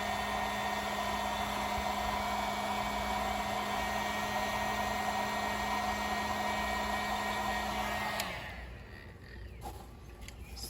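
A heat gun blows steadily and loudly on heat-shrink tubing over a wire during a fuel pump fuse relocation on a 2012 Ford F-150 with a 5.0 Coyote, its whine holding for about eight seconds before cutting off.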